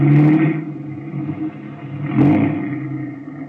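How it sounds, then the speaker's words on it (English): Car in a 1945 radio drama pulling across a road to block it, an engine revving up loudly, easing off, then surging again in a second burst before settling. "Better move the car across the road and block it."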